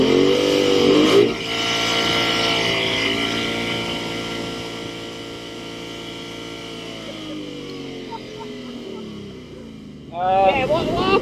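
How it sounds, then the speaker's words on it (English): Ford Mustang GT held on line lock and revved hard, a loud, steady V8 drone with rising and falling harmonics that tapers off, then a short burst of renewed revving; no clear tyre squeal stands out. "It's what allows the car to lock the brakes up the front automatically and then spin the back wheels, creating smoke"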